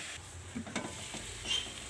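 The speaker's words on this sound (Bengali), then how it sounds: "আলু দিয়ে এবার কষিয়ে নেব।" Potatoes and soybean chunks are stir-fried with spices in a pan, giving a soft, continuous sizzle broken by faint scraping strokes of a spatula.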